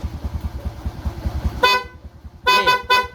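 A Shogun R 125 motorcycle engine idles with a low throb, then its horn beeps loudly three times, one short toot followed by two more.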